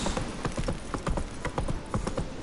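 A horse gallops in the video game The Witcher 3, with a rapid, regular clip-clop of hooves sounding close and continuous throughout.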